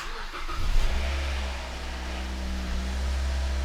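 A car engine cranks and catches right after an oil change, in neutral with the parking brake on, then settles into a steady, loud idle rumble close by.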